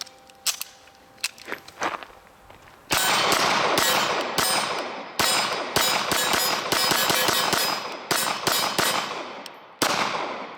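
Pistol shots from a ReX Zero 1 and a Beretta 92FS at an outdoor range: a few scattered shots, then a long run of sharp, loud, closely spaced reports in quick succession with brief pauses.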